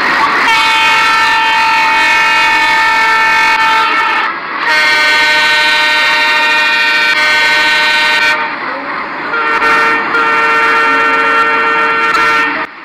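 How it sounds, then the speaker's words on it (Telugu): Loud, sustained multi-tone horn blasts from a freight locomotive in Indian Train Simulator, three long chord-like toots separated by brief dips, ringing alone without talk. "సో ఇవన్నీ హార్న్ అయితే వినండి."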